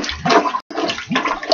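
Water surges and gurgles noisily as a clogged sink drain backs up in a roach-infested apartment, a loud, churning rush with a brief break midway and no talking.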